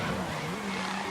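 Race car engine in GRID 2019 holding a steady drone while the car slides and drifts through a turn, loud and close with a continuous tyre-scrub wash over it.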